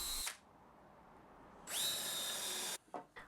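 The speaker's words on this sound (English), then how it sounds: "I pre-drill and countersink to prevent splitting." A power drill pre-drills and countersinks wood for a shepherd's hut end wall, with two close, loud whirring bursts separated by a quiet pause and short stuttering trigger blips at the end.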